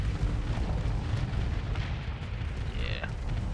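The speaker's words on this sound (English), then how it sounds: "Let's fire off our Reapers." Reaper torpedoes fire and detonate in the space combat game Starsector, a continuous rumbling barrage of heavy booms and blasts thick with low-end roar, with no talking over it.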